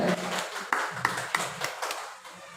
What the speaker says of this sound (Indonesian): Ya, tepuk tangan dulu buat Bu Wani ya.